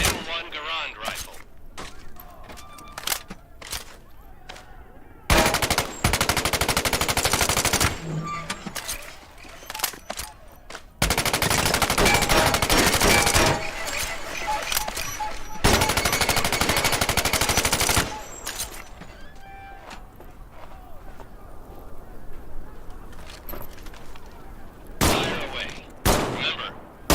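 Bursts of M1 Garand rifle gunfire in the video game Medal of Honor: Above and Beyond, several loud volleys of a few seconds each separated by quieter handling noise and clicks.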